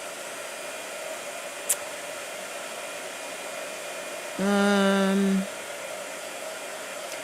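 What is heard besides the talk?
blow dryer running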